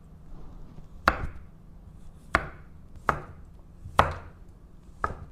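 A kitchen knife chops on a camphor wood cutting board in five separate, fairly soft strikes at uneven intervals, close by and with no voices, each a short dull knock.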